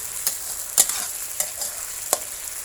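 Holy basil and crispy pork stir-fry in a pan, a steady close sizzle broken by a few sharp scraping strokes of a spatula.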